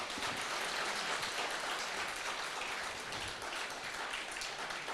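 Dense, steady applause from a conference audience welcoming Uttar Pradesh Chief Minister Yogi Adityanath at a news conclave, a continuous broadband clatter of many hands filling the whole stretch with no voices over it.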